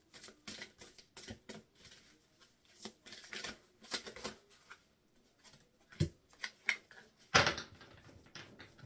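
Fairy tarot cards being shuffled by hand, a run of soft papery riffles and taps in uneven bursts, close and fairly quiet, with a sharper flurry near the end.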